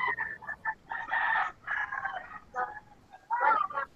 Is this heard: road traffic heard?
no